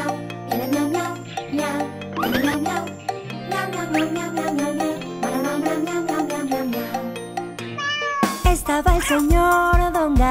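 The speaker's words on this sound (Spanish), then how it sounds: "Señor Don Gato, sentadito en su tejado, marama, miau, miau, miau" A children's song in Spanish about a cat on a rooftop has a sung melody with cat meows, then a run of loud, close meows near the end. Light jingling and chimes accompany the tune.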